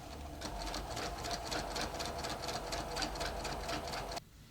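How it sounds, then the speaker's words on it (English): A sewing machine runs steadily, stitching a quarter-inch French seam with a fast even rhythmic chatter, close and loud, then stops abruptly just before the end. "now I'm just going to stitch down the length of my seam using 1/4 inch."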